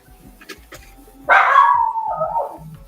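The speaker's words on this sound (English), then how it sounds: "Sorry, my dog is freaking out." A dog indoors suddenly lets out one loud, drawn-out bark that trails into an excited whining yelp, close to the microphone after a few seconds of quiet room noise.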